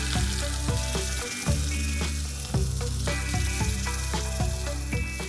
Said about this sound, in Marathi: आता आपण हा जो मसाला वाटलाय तो आपण ह्यात घालूया.